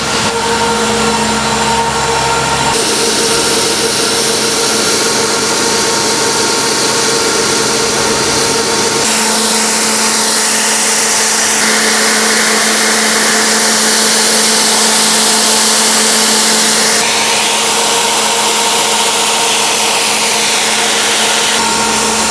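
Steady, loud engine drone of a John Deere 7600 tractor on a farm, running continuously with a constant hum and mechanical whine that shifts slightly in tone partway through; no talking.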